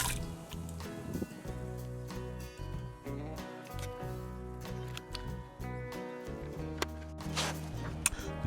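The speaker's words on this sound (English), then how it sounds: "I pour in about 1/3 of my jug into the skimmer hole." Plumbing antifreeze glugging from a jug into a pool skimmer hole while closing a pool for winter, a continuous gurgling pour with bubbly, uneven surges, close and moderately loud, with no voices.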